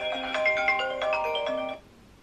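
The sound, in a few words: mobile phone ringtone ringing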